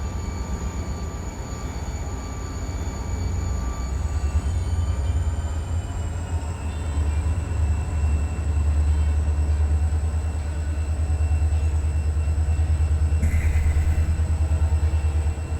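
A 1,600-ton freight train climbs the Red Marble grade with a heavy, continuous low rumble and steady engine drone, plus faint high squeals from the wheels.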